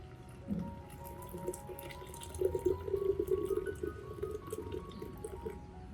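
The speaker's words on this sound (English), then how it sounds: "Add 300 milliliters of water." Water poured onto two tablespoons of cinnamon powder, a steady low trickle and gurgle of liquid that swells in the middle and then tapers, heard alone at close range.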